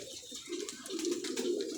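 Mamdeen highflyer pigeons with Mairo markings coo in a low, rolling throaty murmur, close and steady, with no voices over the cooing.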